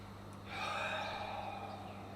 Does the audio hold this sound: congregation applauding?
no